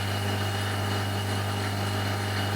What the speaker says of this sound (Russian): вот она набирает вакуум. Насос у меня здесь не особо мощный, поэтому ну, как-то она более-менее медленно идет.